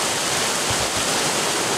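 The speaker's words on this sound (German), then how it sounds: "weil wir am fließenden Wasser sind" Flowing water of a stream, a steady, close broadband rush and splash with no breaks and no voices.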